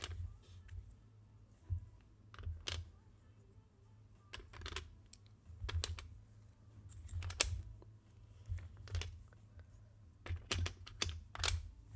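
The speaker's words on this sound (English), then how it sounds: "Sorting keycaps back in is probably my least favorite task." Keycaps clatter and click as they are sorted back onto a GDK Labs NV-70 mechanical keyboard during a build, a steady run of small plastic taps and clacks with a low background hum and no talking.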